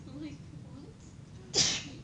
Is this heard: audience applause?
no